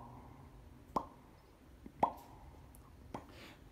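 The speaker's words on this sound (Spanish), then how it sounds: "se oyen las típicas gotitas caer por las paredes que suenan" Water drops falling and dripping down the walls inside a dam facility, three distinct plopping drips spaced about a second apart over a quiet, echoing background.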